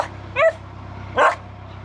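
A dog that has dropped its ball into the water by a narrowboat barks twice, close and sharp, separated by a short pause over steady low engine hum.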